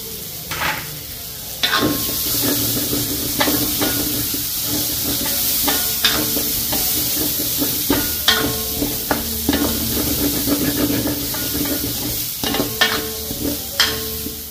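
Ginger and garlic sauté in a hot pan, giving a steady close sizzle broken by repeated scraping stirs of a spoon, with no talking.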